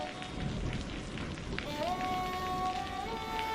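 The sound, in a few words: heavy rain falling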